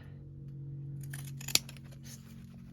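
Pinking shears cut through fabric with a faint, close crunch and one sharp snip of the blades, over a low steady background hum.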